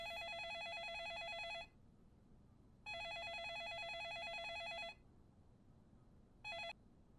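Electronic telephone rings in Yakuza 4 sound as two full bursts of about two seconds each, then a short clipped third ring, clear and steady over a quiet background.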